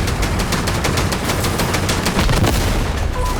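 Video game water cannons fire in rapid, loud bursts, a continuous stream of sharp repeated blasts with no talking.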